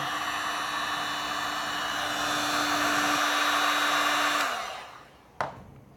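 A hot air tool blows steadily close by while heating craft foam for a helmet, a loud even whoosh with a faint tone inside, then it winds down and ends with a sharp click.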